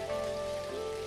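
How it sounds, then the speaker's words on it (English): Rain falls in the co-op farming video game Dinkum as a steady, even hiss of rainfall under a sustained tonal game music background, with no talk. "There's too much rain, I think."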